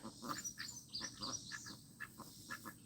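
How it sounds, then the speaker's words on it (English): A duck quacks in short, rough bursts at a farm on a hot Alabama day, several calls in irregular rhythm at moderate distance, fairly faint against steady outdoor background noise. "Oh, now the duck's going to get you, Rodney."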